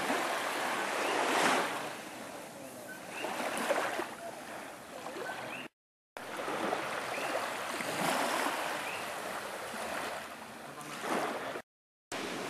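Ocean waves at a beach in Rincón, Puerto Rico roll in with a steady roar and periodic swelling crashes of surf, broken by two brief moments of silence, with no voices heard.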